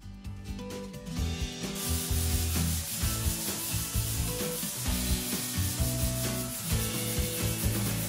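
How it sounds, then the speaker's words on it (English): Steady abrasive rubbing of sanding quick-drying joint compound smooth on an interior bedroom wall, a continuous close scraping texture with rhythmic strokes and no talking. "I used a quick drying joint compound on the walls, but still gave it a few hours, sanded it smooth"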